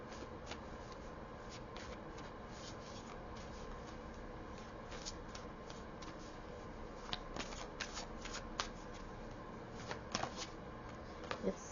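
Tarot cards are shuffled steadily up close, a continuous papery riffling with a few sharper flicks near the end.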